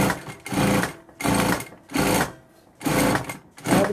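A sewing machine stitches the seam of a sack-style bag in repeated bursts of fast running, each about half a second long with short pauses between, close and loud with no talk.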